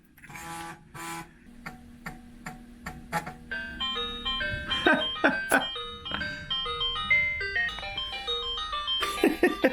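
Beeping chiptune music from the game Bug Eyes on a BBC Master computer, with bright tones that start sparse and then speed into a quick, busy melody.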